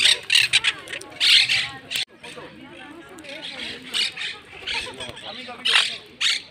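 Several birds squawk and chatter in harsh bursts close by, a busy, overlapping racket with brief pauses.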